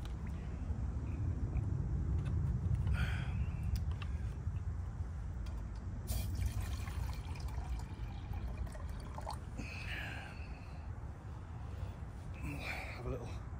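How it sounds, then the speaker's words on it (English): Water pours from an Osprey water bottle outdoors in woodland, a soft trickling stream under low background rumble, and someone speaks in the clip. "Good old Osprey water bottle."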